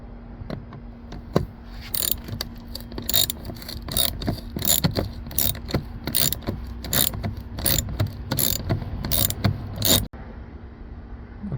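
A ratcheting tool clicking Torx T27 screws out of the door panel of a Chevy Uplander or Pontiac Montana, a close run of quick mechanical ticks and clacks that cuts off abruptly near the end.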